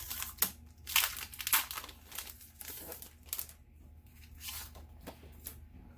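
Sticker book with foil pages being handled, producing irregular crisp crinkling and rustling bursts close to the mic, fairly quiet, with no talking.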